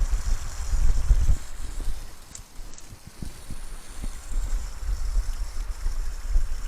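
Water from a garden hose runs into a rainwater collection tank of over 300 gallons feeding a greenhouse garden shed, heard as a steady rushing, splashing flow with low rumbling gusts, fairly close and continuous.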